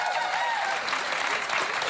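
A television talk-show studio audience applauds and cheers steadily for two seconds, a dense, continuous wash of clapping with no voice over it.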